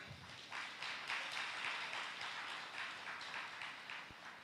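An audience at a community meeting applauds with a steady, moderately distant wash of hand claps lasting several seconds, with no voices over it.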